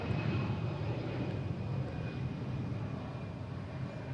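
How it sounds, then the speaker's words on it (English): An Airbus A319 jet taking off at Boston Logan International Airport produces a steady, broad engine roar heard from a distance, sustained without talking. "Oh, that was an A319 taking off."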